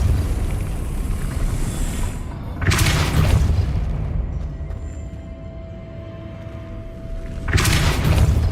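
The Depulso spell in Hogwarts Legacy fires as heavy, booming blasts, two loud bursts a few seconds apart with rumbling ambience between them.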